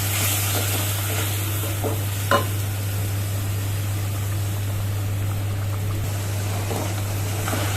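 Poppy seed paste and pointed gourd being stirred together in a pan, a soft continuous sizzle under scraping spatula strokes and one sharp clink, close and steady beneath a constant low hum.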